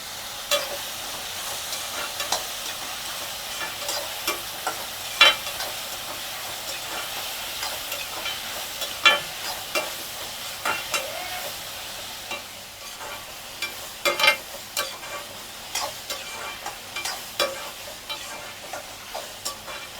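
Onions cook in a pan for a Tamil prawn gravy, lightly salted and browning over about ten minutes. A steady sizzling hiss runs throughout, with frequent sharp spoon scrapes and clinks from stirring, and no talking.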